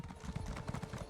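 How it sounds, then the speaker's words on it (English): A Jubilee Festival horse mount trots in The Elder Scrolls Online, with a rapid rhythmic clip-clop of hooves heard faintly and close, repeating in quick pairs across a brief moment. "Jubilee Festival horse!"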